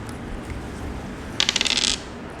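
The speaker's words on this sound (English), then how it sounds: "Now it's time for team A to roll the dice." Dice rolled during a zero waste classroom card game at a CBSE school, a quick burst of clattering, rattling clicks lasting about half a second, fairly close over a quiet room hum.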